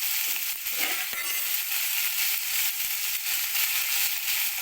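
Bitter gourd, boiled first with tamarind, salt and turmeric, fries in hot oil in a home kitchen, giving a steady, close hiss of sizzling with a few faint clinks and stirring sounds and no talking.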